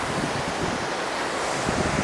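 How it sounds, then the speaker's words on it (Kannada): Gokak waterfall, where the Ghataprabha river drops over the falls, gives a steady broadband roar of crashing water with no pauses, even and continuous. "ಆ ನದಿ ಬಂದು ಇಲ್ಲಿ ಫಾಲ್ಸ್ ಆಗಿ ಕನ್ವರ್ಟ್ ಆಗಿದೆ"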